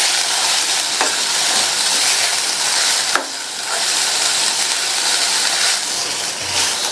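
A stir-fry of red-stemmed amaranth greens with cooked moong dal and grated coconut sizzles steadily in the pan, with a couple of sharper scraping stir strokes cutting through the continuous hiss. No one speaks.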